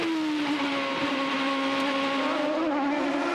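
A 2008 IndyCar with a normally aspirated 10,300 RPM Honda V8 screams past at an Australian street race, a loud, sustained high-pitched engine wail with a slowly falling pitch as the car sweeps by.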